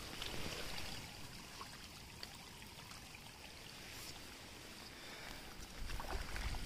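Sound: water flowing from an embankment

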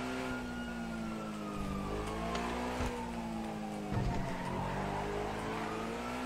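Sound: car driving in video game GTA V

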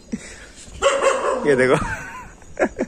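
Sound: street dogs barking

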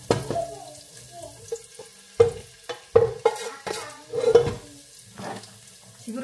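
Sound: onions frying and being stirred in a pan

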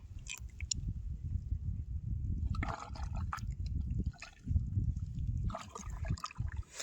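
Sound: tidal water flowing into creek

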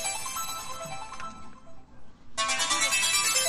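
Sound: telephone ringing

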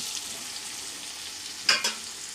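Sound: sautéing mushrooms in masala

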